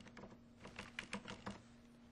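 Quiet keystrokes on a computer keyboard come in a short, uneven burst of clicks, soft and close, with no voices.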